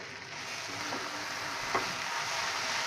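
Okra (bhindi) sizzling in a pan on high flame, a steady hissing fry with a few soft scraping stirs as the pieces are turned over, close and continuous.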